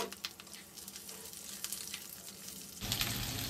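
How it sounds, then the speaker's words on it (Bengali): Vegetables dropped into hot oil set off a faint, steady sizzle and crackle, which jumps to a louder, brighter hiss near the end. "তেল গরম হয়ে গেছে, এবার এর মধ্যে আমি ছেড়ে দিলাম"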